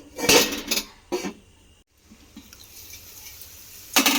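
Metal lid clattering onto a cooking pan of potatoes with chhatu (sattu) after simmering, giving several sharp clanks in two bursts at the start and a final clink at the end, with faint sizzle between.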